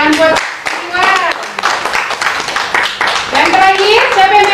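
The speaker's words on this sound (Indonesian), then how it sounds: "Tepuk tangan buat Iwan." A classroom of students claps for a classmate named Iwan after he answers correctly, the short burst of hand claps mixed with children's voices and talk throughout.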